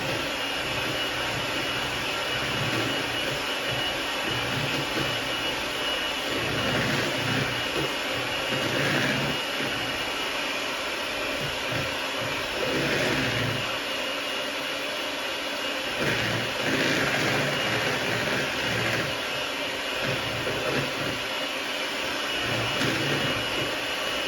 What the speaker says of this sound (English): now I'm going to use my electric mixer. And I'm going to mix it all together.